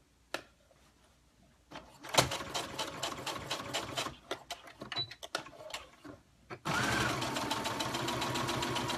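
A sewing machine stitches a skirt hem in a home sewing setup, starting with scattered clicks and short bursts of running, then settling into a loud, steady continuous whir for the last few seconds.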